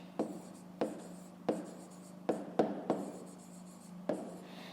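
Pen writing on paper while working a fifth-grade maths exercise: a series of sharp scratchy strokes, each starting with a crisp tap and trailing off, about seven in quick irregular succession, close and clear with no talking.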